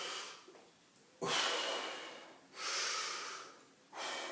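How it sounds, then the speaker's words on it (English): A person demonstrates diaphragm breathing with three forceful breaths pushed out through the nose and mouth, each a loud, close snort-like rush of air separated by short pauses, with no talking. "as I tighten that muscle up, I control my breathing"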